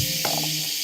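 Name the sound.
voice imitating the hiss of a bug spray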